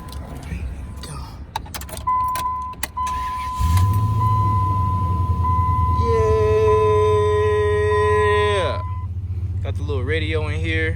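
A 2002 Dodge RAM 1500 truck engine fires up for the first time and settles into a steady, loud idle after a few seconds, with a sustained tone and a rising whine fading near the end as a voice speaks.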